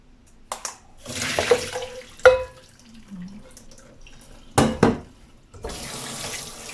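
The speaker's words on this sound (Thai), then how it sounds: "เปิดล้างส้มเลยนะคะ" Tap water running in bursts over mandarin orange segments being rinsed of salt water, splashing and gushing on and off close by, with quieter gaps between and no speech.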